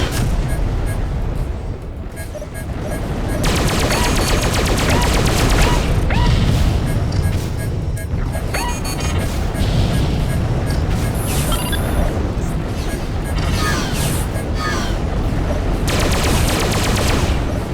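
Sustained gunfire pounding a ship's hull during a Freespace 2 space battle, a dense continuous barrage of impacts and booms with brief lulls, loud and close throughout.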